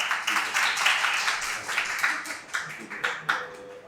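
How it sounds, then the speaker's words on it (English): An audience at a blockchain training event claps in a short burst of applause that thins out into scattered claps, heard from within the room. "Give him an applause, please."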